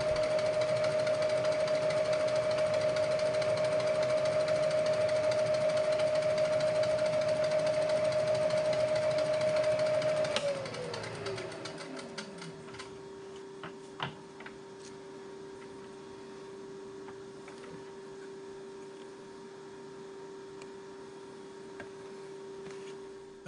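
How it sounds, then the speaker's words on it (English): A spotting bit in a machine spindle cuts the start of a taper pin hole for a South Bend lathe steady rest, giving a steady tonal whine that winds down midway, followed by a low hum and scattered faint clicks. "Before drilling the through hole, I'll use a spotting bit first."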